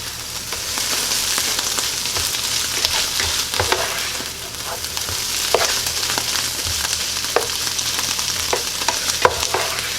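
Spam and onions sizzling in a pan, a steady close crackle and hiss with occasional louder pops and scraping stirs throughout, no talking.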